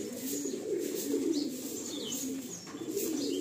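An Andhra pigeon coos steadily while held in the hand, a low continuous throaty burble close by, with faint rustling around it.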